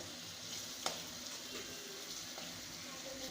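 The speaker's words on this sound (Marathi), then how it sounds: "आलं लसूण पेस्ट यात छान अशी दोन मिनिट परतवून घ्यायची" Ginger garlic paste sautéing in a pan for a sprouted moth bean curry makes a soft, low sizzle, with a couple of light utensil taps.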